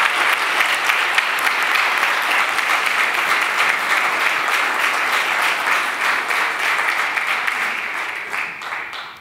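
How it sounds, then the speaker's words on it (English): An audience at a conference keynote applauds loudly and steadily for several seconds, the clapping thinning out near the end. "I'm gonna clap."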